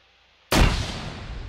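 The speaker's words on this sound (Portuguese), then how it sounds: "Granada lá dentro." Grenade explosion in Arma 3, a single sudden loud boom after near silence, followed by a long rumbling decay that fades over about a second.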